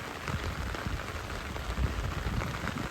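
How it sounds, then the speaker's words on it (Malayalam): Light evening drizzle falls outdoors by a river during a fishing outing, a steady, even patter of drops with occasional soft thuds and no talking. "നല്ല ചാറ്റൽ മഴ"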